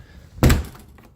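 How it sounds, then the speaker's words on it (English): A single heavy thunk as a door of an art and recording studio is shut, a sharp close impact followed by a short fading rattle in a quiet room. "And shut this door."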